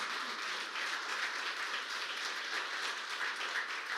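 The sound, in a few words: church congregation applause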